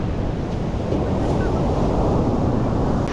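Ocean waves breaking on a beach in Turkey make a steady, close roar of surf, mixed with gusty wind buffeting the microphone.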